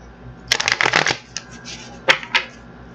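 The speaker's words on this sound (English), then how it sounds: "we're going to get this deck shuffled up" A deck of cards is shuffled close by: a loud riffling burst, then a pause and two short, sharp snaps as the cards are squared.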